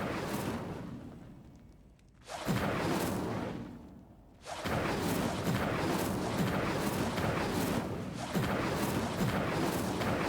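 Spells cast in Hogwarts Legacy burst out as loud whooshing, booming magical blasts, several heavy hits separated by short quiet gaps and followed by sustained crackling effect noise, with no talking.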